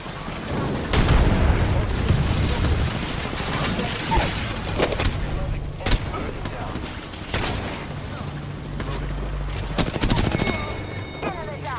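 A frag grenade bursts amid rapid, sustained gunfire in the battle-royale shooter Apex Legends. Loud cracks and booms layer densely over one another, with voices talking over the combat.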